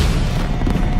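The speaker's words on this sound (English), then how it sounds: "What a lovely firework display." A cartoon fireworks burst at a New Year celebration gives a single loud, low boom that rumbles and fills the moment, with no talking over it.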